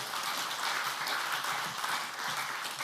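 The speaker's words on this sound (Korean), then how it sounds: "박수로 환영하겠습니다" A church congregation applauds to welcome a pastor to the pulpit, a dense, steady wash of many hands clapping that holds evenly throughout with no speech.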